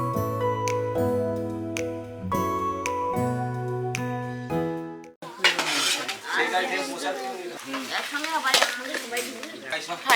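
During a group bus tour lunch, dishes, plates and cutlery clink and clatter up close as food is served, first in bright ringing knocks and then in a busier jumble of scraping and clinking.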